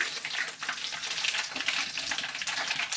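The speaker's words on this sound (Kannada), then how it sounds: "ಪ್ಯೂರ್ ಕೊಬ್ಬರಿ ಎಣ್ಣೆ ಮನೆದೆ ಸಾಸಿವೆ ಹಾಕೋತಾ ಇದ್ದೀನಿ ಒಂದೆರಡು ಕರಿಬೇವು" Mustard seeds and curry leaves frying in pure homemade coconut oil in a pan, a loud, continuous close crackle and sizzle with bright popping spatter and no voices.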